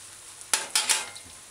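Hot oil sizzles softly and steadily as okra codfish fritters fry in a pan, with a few brief louder hissing bursts as they are stirred.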